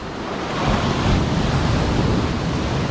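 Pacific Ocean surf breaks against a rocky shore, a loud continuous roar of churning water and wind noise filling the whole moment, with no voices.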